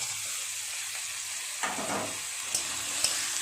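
Potatoes and onions sizzle steadily in a pan, stirred now and then, with a soft scrape of the spoon and a few sharp clinks against the pan over the constant frying hiss.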